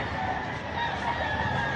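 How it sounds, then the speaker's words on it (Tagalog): Roosters crow and chickens cluck at a pet market in Bocaue, Philippines, a steady, busy background of poultry noise, continuous and fairly loud throughout. "Ayun, may mga nagbibitaw ng manok."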